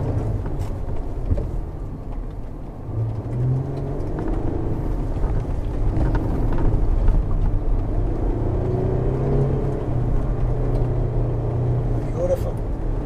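A 2020 Jeep Gladiator pickup climbs an off-road trail, its engine rumbling low and moderately loud as the gears shift up, while someone talks over the steady drive noise.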